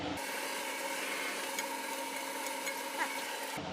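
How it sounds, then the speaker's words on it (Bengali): Beef khichuri with masoor and mung lentils being stirred with a spatula in a pot, a continuous soft rasping scrape with a faint sizzle, fairly quiet and without talk. "মেশানোর কাজ চলতেছে এই খুন্তিটা দিয়ে একটু সুন্দরভাবে মেশাতে হবে"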